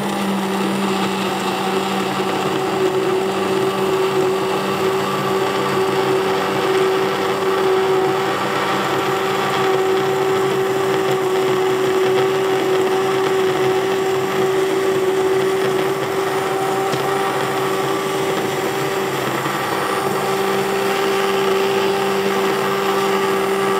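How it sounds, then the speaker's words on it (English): A blender blending hot homemade brown sauce until smooth, a steady, loud motor whine that holds constant throughout with no talking. "I'm just going to blend it up and get it nice and smooth"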